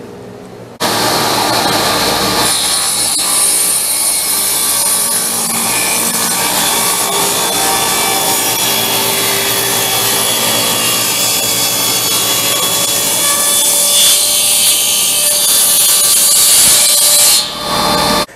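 A power saw rips wood strips for an end grain cutting board in one long continuous loud cut, steady whine and rasp running almost the whole clip with no talking.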